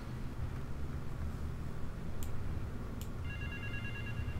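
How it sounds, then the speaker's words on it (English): A telephone rings in Grand Theft Auto III, a thin electronic trill starting near the end over steady game background noise, after two brief high chirps. "Oh, a phone."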